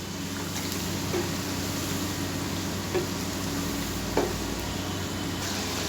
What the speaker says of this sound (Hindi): इसको हम थोड़ा सा मज़ीद फ्राई करेंगे ताकि ग्रेवी थोड़ी हमारी सही तैयार हो जाए